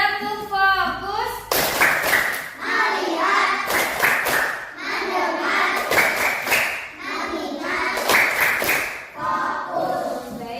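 A class of children performs a rhythmic 'tepuk fokus' clapping chant, bursts of unison hand claps alternating with sung and chanted voices in a repeating pattern, loud and close in a classroom.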